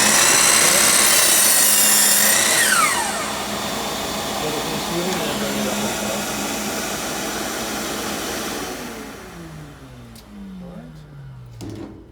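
A Ridgid miter saw motor spins up loud and high-pitched, then cuts through material before winding down, with the falling pitch of the blade slowing toward the end.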